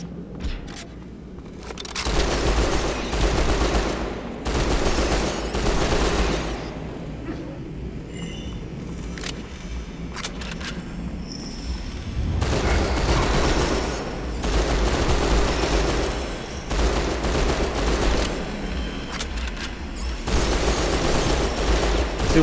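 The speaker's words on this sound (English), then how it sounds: "the machine gun works great for these rats" Sustained automatic gunfire from a machine gun in the video game Hunter: The Reckoning, loud bursts in several long stretches over a low rumbling game background, with no talking.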